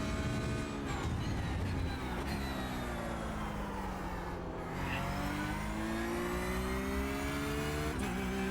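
A GT3 race car in iRacing revs hard and upshifts, its engine note climbing, dropping at each gear change and climbing again, loud and close throughout.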